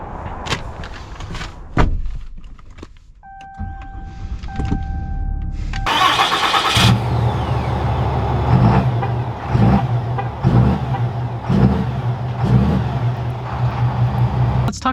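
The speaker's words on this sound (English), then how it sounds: "Let's take this truck out and see how it drives." A 2021 Ram 2500 Laramie Mega Cab pickup starts with a brief crank and catches, then settles into an idle while the engine revs up in pulses. Soft clicks and a door thud come before the start, all heard close with no speech.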